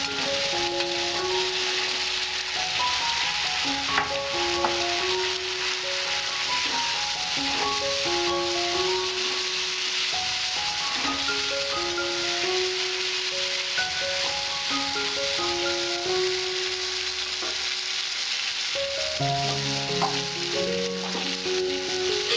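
Potato pieces sizzle steadily in hot oil in a pan for a Bengali pabda fish curry, a continuous crackling hiss with a melodic tune playing over it.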